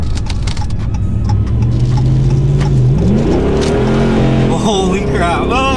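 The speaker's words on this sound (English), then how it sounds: "I was doing a burnout all the way up to the top of a second." A 2013 Ram 1500 pickup's engine revs hard during a burnout, climbing in pitch as it runs up through the gears, loud and close, with a voice briefly speaking over it.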